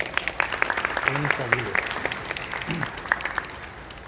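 Audience at a memorial gathering for trans people lost to hate gives a clap for Paul Aviles, scattered, moderate clapping with distinct individual claps over a murmur of voices and brief talk.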